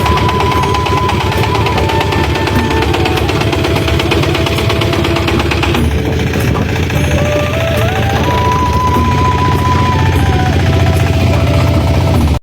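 A fishing boat engine runs on the Padma river as the boat sets out to catch hilsa. It makes a loud, steady, close-up throbbing drone that carries on without a break, with faint background noise.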